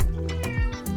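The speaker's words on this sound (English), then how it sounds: "Sorry, ignore my cat." A house cat meows indoors, two or three short, close meows in quick succession.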